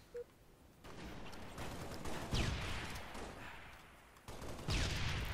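Halo Reach multiplayer gunfire, several sharp loud shots of sniper rifle fire spaced a second or two apart over steady background noise.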